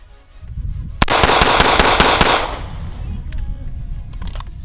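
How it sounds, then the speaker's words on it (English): Gunfire rings out as a rapid burst of about six sharp cracks in quick succession, loud and close, trailing into a decaying echo with faint background rustle afterward. "We'll do a 6-round burst."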